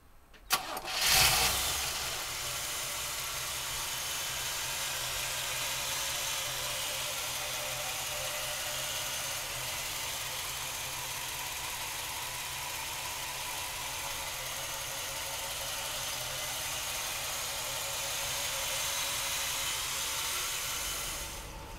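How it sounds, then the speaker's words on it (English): A 1968 Chevrolet Impala big-block V8 cranks and catches in a loud burst near the start, then settles into a steady, even idle that rumbles on without a break and with no talking. "let's fire this big block up"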